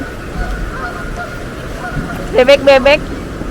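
Several short nasal honking calls from ducks, clustered near the end, over steady outdoor background noise.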